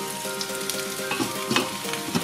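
Curry meatballs sizzle steadily in a pan over high heat, a dense continuous frying hiss broken by light scraping and stirring clatters close by.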